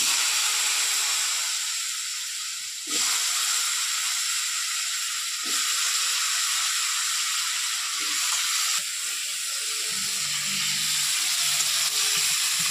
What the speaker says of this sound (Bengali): তেল দিয়ে দিয়েছি কড়াইয়ে। এবার আলুগুলো প্রথমে কষে নেবো একটু।